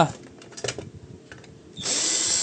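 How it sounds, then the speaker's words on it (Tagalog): A cordless drill backing screws out of a GMA Affordabox set-top box, a few short whirring bursts followed by a sustained high whine near the end, close, with someone talking intermittently around it. "Gagamit tayo ng cordless drill."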